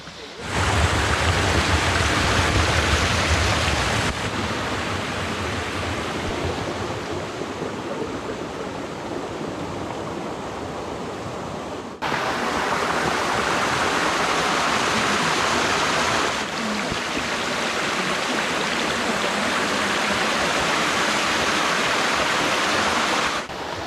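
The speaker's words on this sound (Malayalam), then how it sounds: "വെള്ളം ഇങ്ങനെ ഒലിച്ചിങ്ങനെ പൊയ്ക്കൊണ്ടിരിക്കുകയാണ്" Forest water runs along a rock in a shaded spot, a loud, continuous rushing wash held steady throughout with no voices.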